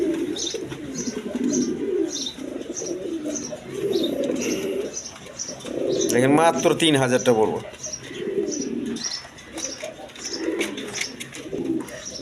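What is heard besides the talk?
Rajgolla pigeons cooing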